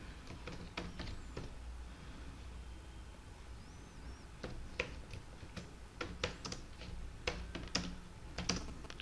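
Rapid, uneven keystrokes on a computer keyboard while Java code is typed, clicking steadily for several seconds with occasional louder key hits, close and alone without speech.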